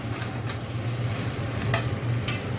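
Spiced chickpeas with salt and turmeric being stirred in a pan, a soft steady scraping and faint sizzle with a few light ticks of the spoon against the pan, close and continuous.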